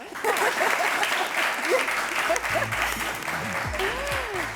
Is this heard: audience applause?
yes